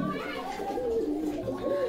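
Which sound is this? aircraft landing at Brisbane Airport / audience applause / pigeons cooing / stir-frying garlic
pigeons cooing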